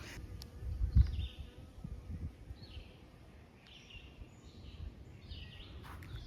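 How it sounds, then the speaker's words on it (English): Bees buzz faintly near and around echinacea flowers in a summer garden, drifting in and out over a quiet outdoor background with a soft thump early on. "There's a couple of busy bees on here"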